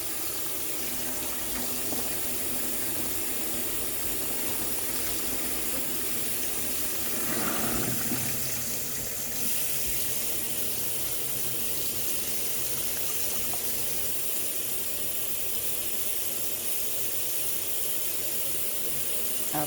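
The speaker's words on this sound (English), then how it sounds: "I'm just going to get this rinsed as good as I can get it rinsed." Tap water runs steadily to rinse a dyed polyester blend jacket in a sink, a continuous hissing splash that lasts throughout with a brief louder surge near the middle.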